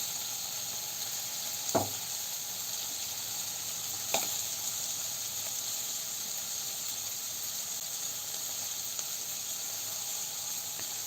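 Dosa cooking on a hot griddle, a faint, steady sizzling hiss with two brief sharp scrapes or taps standing out.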